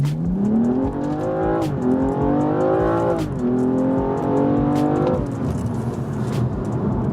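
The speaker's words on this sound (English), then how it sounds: "My God, this car launches with such violence." A stock BMW M235i launches hard in a 0-60 run, its engine revving up through three rising pulls separated by quick gear shifts, loud and close from inside the car.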